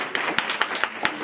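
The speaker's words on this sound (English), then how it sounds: "it's time for a huge round of applause" Audience applause at a meeting in Helsinki, a dense wash of clapping from a crowd with a few sharper individual claps standing out, steady and fairly close for a brief stretch with no talking.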